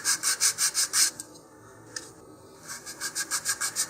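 Laser-cut balsa fins for an Estes Goblin model rocket are sanded with rapid, even back-and-forth strokes. The rasping is close, pauses briefly midway, then resumes at the same steady rhythm.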